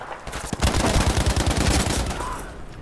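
A grenade goes off in the video game Firestorm as a loud, dense blast that rolls on for a couple of seconds with rapid crackling bursts inside it.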